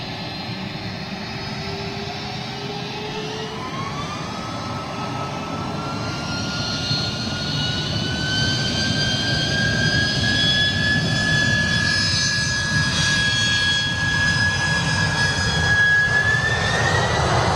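A jet airliner with CF6 engines passes overhead, its deep roar building steadily while a rising turbine whine climbs in pitch, loud and alone without voices.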